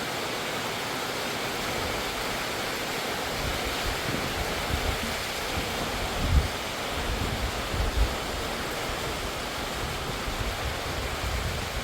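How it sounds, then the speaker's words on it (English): Steady broadband hiss of a rain shower falling at a ranch, continuous and enveloping throughout with a few soft gusty swells and no talking. "Well, I wasn't expecting it to rain, but it's definitely raining."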